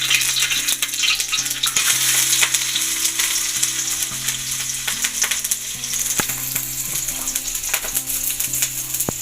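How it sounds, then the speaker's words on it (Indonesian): Chopped garlic sizzles loudly in hot oil in a wok, with constant crackling and occasional scraping stirs, while a faint tonal hum plays underneath. "masukkan bawang putih yang sudah dicincang ke dalam wajan"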